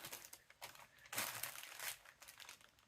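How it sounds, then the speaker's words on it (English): Crinkly plastic packaging from a delivery of ordered sewing supplies and a hardware kit rustles and crumples in close, quiet bursts, with a louder crunching stretch in the middle. "Sorry for all the rustling here."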